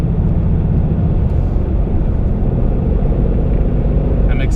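A 2018 Ford Mustang GT with a Roush resonator-delete X-pipe drones at a steady low rumble as it accelerates in quiet exhaust mode, the exhaust subdued and muted rather than loud, with no voices.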